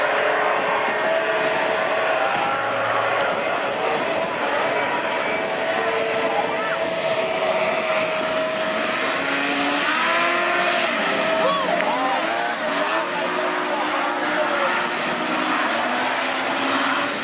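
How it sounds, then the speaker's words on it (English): Formula One hovercraft racing engines and fans drone continuously from a distance at a race finale, with a commentator talking over the sound and pitch sweeps as craft pass. "what you've been watching there was the finale of the Formula One hovercraft season."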